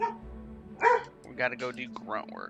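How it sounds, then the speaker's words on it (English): Dogs barking in the background of a home while someone talks over them, with short bursts of barks and yips coming and going under his speech. "Sorry about the dogs in the background."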